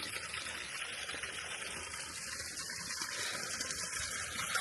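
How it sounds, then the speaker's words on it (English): Steady rushing of water pouring and splashing continuously from a small mountain spring on Mount Hallasan, Jeju Island, a bright hissing flow with no voices. "we found a little water source"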